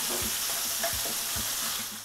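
Salmon frying in a pan, a steady close sizzle with soft, irregular taps from stirring or turning, no voices.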